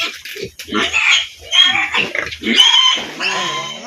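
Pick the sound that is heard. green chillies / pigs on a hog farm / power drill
pigs on a hog farm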